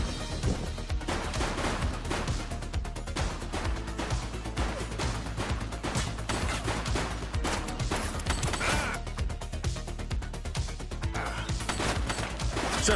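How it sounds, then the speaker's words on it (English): Continuous heavy gunfire in the police video game The Precinct, a dense, unbroken barrage of rapid shots and bursts layered over one another, loud and sustained throughout. "She's shooting!"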